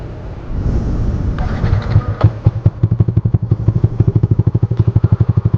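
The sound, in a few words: motorcycle aftermarket exhaust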